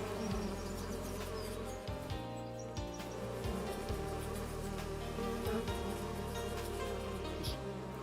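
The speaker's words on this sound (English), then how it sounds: "Each hive gets 4 boxes of bees." Dense, steady buzzing of many bees swarming around hives in Farming Simulator 25, holding a continuous drone throughout with faint chirps mixed in.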